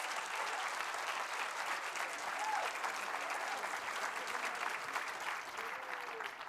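Dense audience applause rolls on steadily at an opening session after a performance, heard somewhat distant and even, with faint voices and a brief whoop mixed in.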